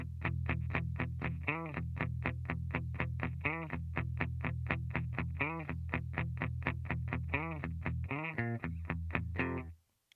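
Heavily distorted electric guitar plays an intro and main riff, steady chugging palm-muted eighth notes broken by ringing accented chords every couple of seconds, loud and close, stopping abruptly near the end.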